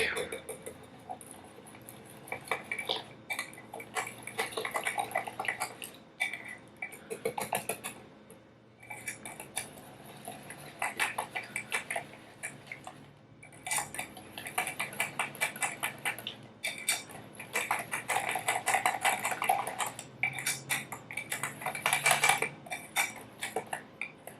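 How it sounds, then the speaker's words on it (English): A whisk clatters rapidly against a bowl while mixing crepe batter made from freshly milled soft white wheat, in fast rhythmic bursts with brief pauses, fairly quiet and close. "And then we're just going to mix with a whisk."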